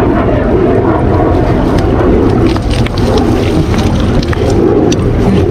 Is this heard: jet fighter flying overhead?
yes